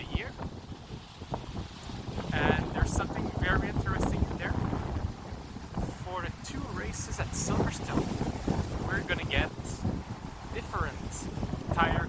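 Wind buffets an outdoor microphone, producing a continuous low rumble and gusty roar throughout, with a person talking over it.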